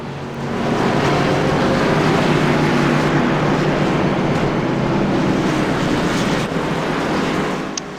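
Steady, loud roar of NASCAR Xfinity race car engines at Talladega in the iRacing sim as cars pull onto pit road, a broad continuous wash of engine noise that holds for several seconds before easing slightly at the end.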